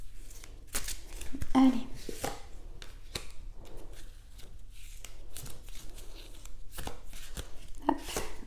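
Oracle cards are shuffled by hand, giving repeated soft riffling and slapping bursts at close range, while someone talks quietly in between.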